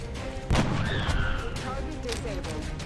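A gunshot rings out in the XCOM Long War strategy game, a single loud crack with a rumbling tail over a steady background of game music and ambience.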